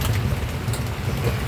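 Typhoon rain falls steadily in a dense, loud, continuous wash with a low rumbling undertone, with no voices.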